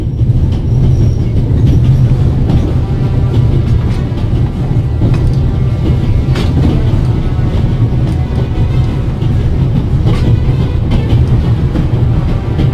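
A runaway steam locomotive in a video game rumbles steadily and loudly throughout, with a rolling mechanical clatter and occasional metallic clicks, and no voices.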